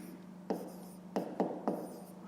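A fraction is written by hand with a pen on paper in a few quick strokes and taps, quiet and close against a faint steady hum.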